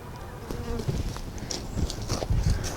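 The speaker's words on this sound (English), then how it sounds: "You can see the honeybees here are loving them." Honeybees buzz around milkweed flowers outdoors in a dry food-forest garden, a soft scattered hum with brief louder passes close by, and rustling and thumps now and then underneath.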